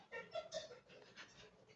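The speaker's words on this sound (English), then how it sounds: "that's my dog" A pet dog pants close by, a few quick, soft breathy huffs in a short irregular burst, faint and alone in an otherwise quiet room.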